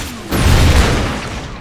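A single heavy explosion in the shooter game Hard Reset, a sharp booming burst that rolls off into a fading rumble.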